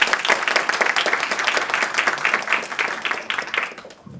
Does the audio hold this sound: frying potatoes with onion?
no